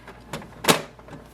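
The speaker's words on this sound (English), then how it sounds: "Close the ink cartridge chamber door." The ink cartridge chamber door on an HP DeskJet 2755e printer swings shut with a soft plastic knock, then a louder close thump, both brief and near.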